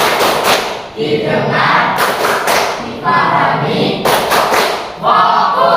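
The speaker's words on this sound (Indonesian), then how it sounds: "Untuk tepuk fokus dan saya coba kita coba dulu tepuk fokus" A classroom does the rhythmic tepuk fokus focus clap, loud bursts of clapping in repeated patterned groups with a teacher's voice speaking over and between them.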